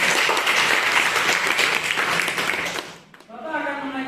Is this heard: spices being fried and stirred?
no